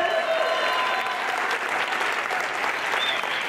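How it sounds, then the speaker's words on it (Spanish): An audience claps together in a sustained, dense burst of applause that stays fairly loud and even throughout, with no clear voices above it. "¡Un aplauso!"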